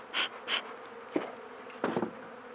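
Honeybees buzz around an opened beehive during an apiary inspection, with a few close, loud bursts of buzzing as individual bees fly past, separated by quieter stretches of low background hum.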